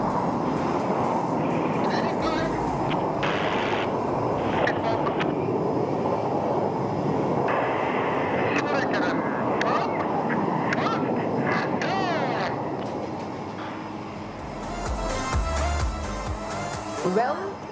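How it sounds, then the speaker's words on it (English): Surya Kiran aerobatic team jets fly a Bomber's Loop at the Aero India 2021 airshow in Bengaluru, producing a sustained, loud engine roar that swells and fades, with a commentator's voice over it. "The Surya Kiran team has pulled up for Bombers Loop."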